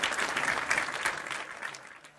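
Warm crowd applause at a live concert welcoming a Pakistani singer, a dense steady wash that slowly thins and fades toward the end.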